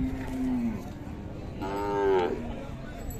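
A Khillar cow at the Sangola cattle market lets out a low moo and then a longer, louder one, over the steady background murmur of the market.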